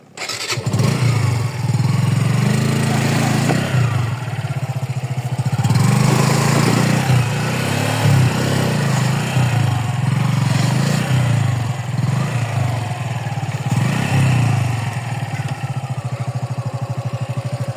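A motorcycle engine labouring along a rough, rocky hill-stream trail, loud and close, its revs rising and falling in repeated surges with a throbbing low exhaust note throughout.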